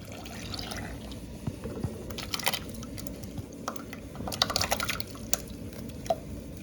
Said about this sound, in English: Meanwhile you're pouring it, you have to whisk it.